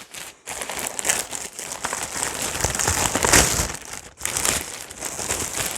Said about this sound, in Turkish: Kargo açmayı çok seviyorum gerçekten de.